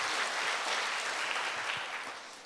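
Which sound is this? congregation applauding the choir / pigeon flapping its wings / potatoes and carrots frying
congregation applauding the choir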